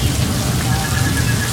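Water from above-ground sprinkler systems shooting straight up and falling back down like steady rain, a dense, continuous hiss of drops close by and loud, with no pauses.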